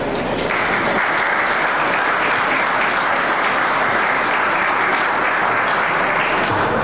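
Loud, dense applause from an audience at a legislators' information session, a steady roar of many hands clapping close by for about seven seconds with no speech.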